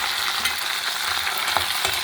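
Washed rice being stirred into a pan with cumin, mint and fried onions for jeera rice: a steady, continuous scraping and sizzling with a few soft knocks of the spoon, and no talking.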